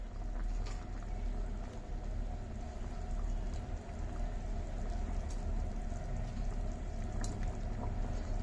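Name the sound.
fish curry broth boiling with potatoes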